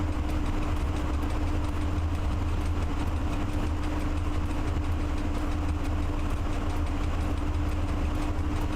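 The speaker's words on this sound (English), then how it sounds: "After all, we are a freight train." A freight train engine in the Train Driver 2 simulator drones steadily throughout, a loud continuous low rumble with a constant hum and no talking.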